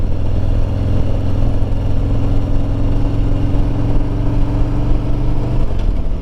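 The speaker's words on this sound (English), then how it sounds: "the big difference between my 15 and this 21 is the 114 motor" A new 2021 motorcycle with a 114 motor runs close by, a loud steady throbbing rumble that holds even, then its pitch drops slightly near the end.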